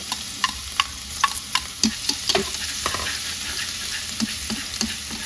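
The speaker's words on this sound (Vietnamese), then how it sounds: "Khi dầu nóng thì cả nhà sẽ cho hết cái phần tỏi băm vào ha." Minced garlic frying in hot oil for braised fish, a steady close sizzle broken by crackling pops and occasional spatula stirring against the pan.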